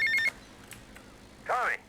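A telephone rings in a modded GTA Vice City (Tightened Vice), a short electronic ring burst at the very start, followed by a brief voice after a quiet gap.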